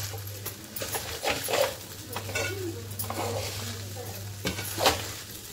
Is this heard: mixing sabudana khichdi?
yes